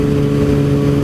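A sport motorcycle engine revs loudly and close, a steady dense roar with a strong low hum that holds for about a second, no voices.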